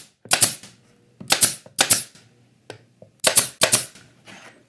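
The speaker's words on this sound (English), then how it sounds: "shoot my pins in." Pin nailer firing pins into wood while glued pieces are held against a spacer: sharp, loud pneumatic snaps in quick pairs and clusters, about seven shots with brief gaps and a faint hiss between them, no talk.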